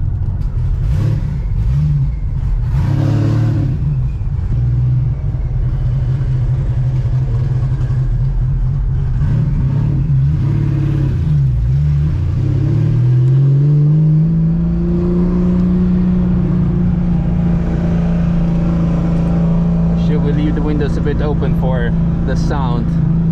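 Engine of a 575 hp RWB Porsche 993 Turbo revving and building steadily while driving, a loud close drone rising in pitch partway through, with people talking over it.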